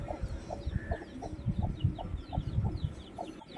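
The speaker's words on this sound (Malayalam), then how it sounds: "ഇവർ രണ്ടുപേരാണ് നമ്മുടെ അമ്മക്കോഴികൾ" A mother hen clucks close by in a steady run of short, low, evenly spaced clucks, with faint high chick peeps scattered over the top and no talking.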